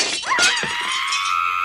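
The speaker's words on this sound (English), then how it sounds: "The glass shattered, forming a scattered pile on the ground." A glass door pane shatters with a sharp, loud crash followed by a bright, ringing tinkle of falling shards that trails off over more than a second.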